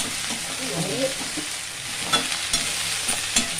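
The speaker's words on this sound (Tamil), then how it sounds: "கொஞ்சம் வதங்கிட்டோம்னா சிம்மில் வச்சுட்டு வதக்கணும்" Onion and okra sauté in a pan for a simple okra side dish, a steady close sizzle with soft scraping stirs and a few sharp spatula clicks toward the end.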